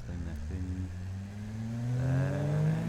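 A turbocharged car engine in the Automation game idles, then climbs in pitch as it revs up smoothly and steadily, the tone rising and growing slightly louder toward the end.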